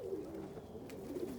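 Homer pigeons coo steadily in a loft on a day after snow, a low continuous warbling of several birds close by with no talk over it.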